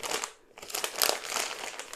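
A plastic bag holding a replacement stretcher part for a Bruder toy ambulance, crinkled up close in quick, uneven rustling bursts with a brief pause near the start.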